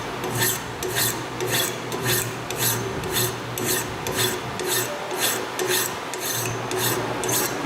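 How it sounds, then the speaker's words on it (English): A hand file rasps across a forged blade in long, steady strokes, each scrape followed by a short pause. The close, rhythmic filing repeats about a dozen times with no voices. "you want to try to use the entire length of the file across the surface of the piece which you want to file"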